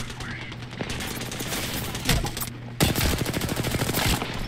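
Rapid automatic gunfire in the Apex Legends battle royale game, bursts of shots crackling over a constant game hum, with a player talking over the fighting.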